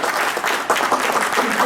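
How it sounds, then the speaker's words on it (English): Audience clapping at a county board meeting, steady applause from a room of people sustained throughout, with faint voices underneath. "you let the audience clap"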